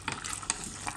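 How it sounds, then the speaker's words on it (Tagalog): Water is poured into a pot of chicken afritada with hard potatoes, giving a brief, soft splash and trickle up close. "Dinagdagan ko ng tubig kasi matigas pa yung patatas."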